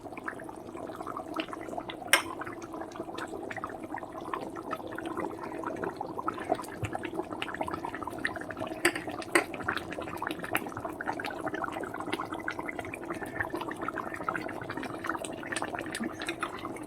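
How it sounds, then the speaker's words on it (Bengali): A pot of water boiling hard on a kitchen stove before eggs go in, a steady bubbling and gurgling wash with scattered pops and splashes, close and fairly quiet throughout. "দেখো এরকম টকবক টকবক করে ফুটছে"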